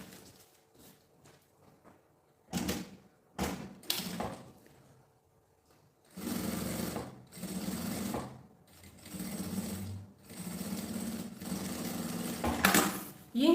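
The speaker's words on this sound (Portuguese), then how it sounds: "Aqui eu coloquei a parte maior e agora aqui em cima eu coloco essa beiradinha menor" A sewing machine stitches along the edge of a plastic pouch, with short bursts of whirring and clacking near by, then longer steady runs separated by brief pauses.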